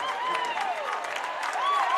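Crowd applauding at a girls high school basketball game in a gym, steady moderate clapping with a commentator talking over it.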